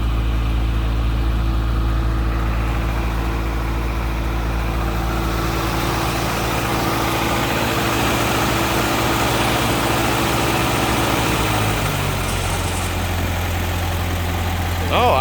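A restored 1948 Willys Jeepster Overland engine idles steadily and close up, a smooth continuous low rumble that shifts slightly in tone near the end.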